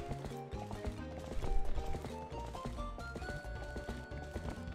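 Horse Epona galloping in the video game Zelda: Twilight Princess HD, a quick steady clip-clop of hooves mixed with game music, fairly loud throughout.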